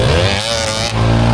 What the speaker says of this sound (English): with his old KTM 200, he still manages to tractor up it